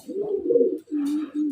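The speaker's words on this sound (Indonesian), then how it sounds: "Ini Monster King, burung kiriman dari Depok." Turtledove kept for Indonesian song contests and sent from Depok gives a close, clear coo. A long warbling phrase is followed by two shorter steady notes after a brief gap, with no other sound competing.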